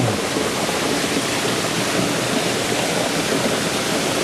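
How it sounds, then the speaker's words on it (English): Heavy water pours down nonstop during Hurricane Ivan in Waleska, Georgia, a dense, steady wash of rushing noise that stays loud and even throughout without a break. "That water just pouring."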